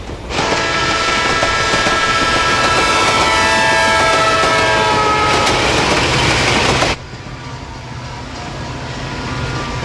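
A train rushes past close by, loud and sustained with a horn tone over the rumble, then cuts abruptly to a muffled, quieter hum as it enters a tunnel.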